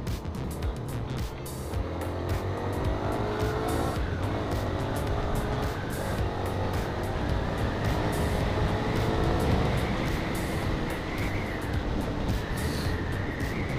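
A Zontes X310 motorcycle on a night ride near Tagaytay during break-in accelerates through rising engine pitches, with a steady roar and wind rush that hold loud for the whole stretch.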